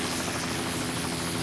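Helicopter hovering over the Apollo 11 splashdown recovery in 1969 as an astronaut is hoisted 40 feet from a raft, a steady dense rotor roar filling the whole moment.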